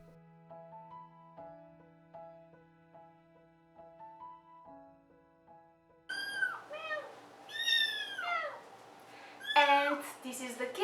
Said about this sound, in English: Simba is a little bit hungry, so he is meowing